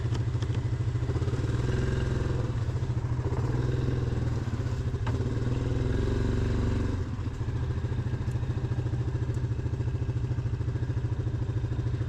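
An off-road vehicle's engine drones steadily as it crawls up a rocky black trail in two-wheel drive, a continuous low rumble with clattering and thumps from the rocks over the whole stretch, no voices.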